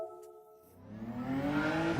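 A race car engine in Gran Turismo 7 revs up steadily, its pitch climbing over about two seconds and growing louder, with no talk over it.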